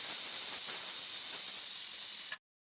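A pressure cooker whistle gives a steady, loud hiss of steam venting under pressure, continuous for a couple of seconds before cutting off abruptly into silence.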